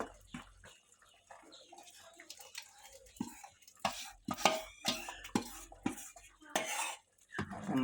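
A spoon stirs ground mustard into a mixture in a bowl while making homemade pachadi, giving repeated close scraping and clinking strokes against the dish in an irregular rhythm.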